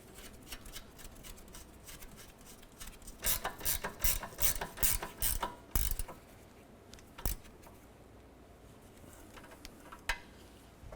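A ratchet tightening the sway bar end link nut on a 2008-2012 Honda Accord, rapid clicking strokes in bursts, loudest in a quick run of pulls midway, then a few isolated clicks, close and alone.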